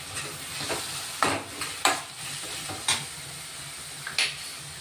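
Ground garlic, ginger and chilli paste sizzles in a pan for a homemade prawn fry, with a constant frying hiss broken by several distinct scrapes of a stirring spoon.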